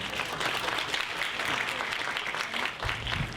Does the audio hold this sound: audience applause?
yes